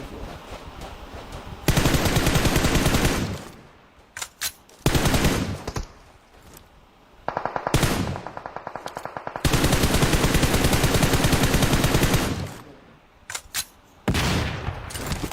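Gunfire in PUBG on the Karakin map: loud, sustained bursts of automatic fire with short gaps and a few isolated shots, repeating across the whole stretch with no talking.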